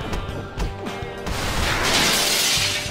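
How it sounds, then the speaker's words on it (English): Glass breaks in the video game Bully with a few sharp knocks, then a loud, sustained crashing shatter that carries to the end. "And we broke through some glass."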